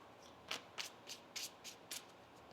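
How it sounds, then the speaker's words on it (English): Six crisp riffling bursts of tarot cards being shuffled, evenly spaced, close and fairly quiet against a soft background hiss. "One more shuffle."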